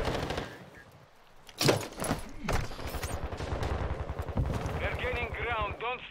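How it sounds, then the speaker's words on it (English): Automatic gunfire bursts from a Modern Warfare 2 ranked Hardpoint match, sharp repeated cracks at mid distance, with players talking over the shooting throughout. "they're shooting on me"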